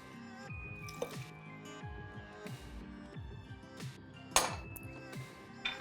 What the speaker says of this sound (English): now we've got to put in the tahini, which is, like I said before, sesame seed paste